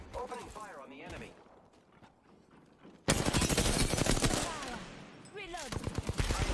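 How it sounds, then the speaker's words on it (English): Automatic weapon fire in an online shooter video game bursts out loud and sustained in the second half, with excited player voices talking over the shooting. "Opening fire on the enemy."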